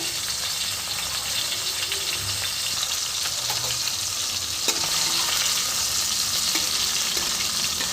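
Rohu fish heads frying in mustard oil in a pan, a loud, steady hiss and crackle of sizzling oil throughout, with a faint clack as the heads are turned.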